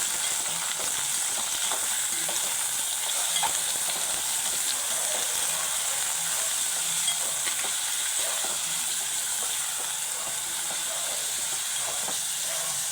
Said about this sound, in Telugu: మటన్ కూడా వేసేసుకుందాం. ఇప్పుడు దీన్ని మంచిగా కలుపుకుందాం.